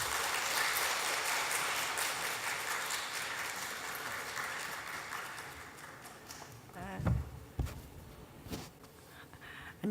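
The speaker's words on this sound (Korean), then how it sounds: "큰 박수의 환영으로 맞이했으면 감사하겠습니다" A church audience at a mothers' prayer meeting applauds to welcome a guest speaker, a pastor's wife: a dense, steady wash of clapping that gradually thins and fades, with a few louder knocks and shuffles near the end.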